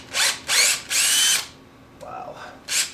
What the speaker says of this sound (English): This is the 1/4 inch drill, and let's see if we can do this.